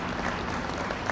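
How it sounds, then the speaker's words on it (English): Applause from a crowd at an outdoor ribbon cutting for the Damen Green Line station, a short steady patter of clapping with no talk over it. "let's give him a round of applause"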